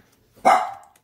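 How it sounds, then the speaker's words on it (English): A single short dog bark from a pet dog indoors, loud and close, rising sharply and fading within about half a second, with no talking. "Sorry guys, that was my dog. She barks at everything."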